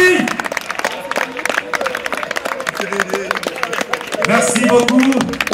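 Audience applause at a live comedy show in Paris, dense clapping with some cheering running through the whole stretch, with voices mixed in over it.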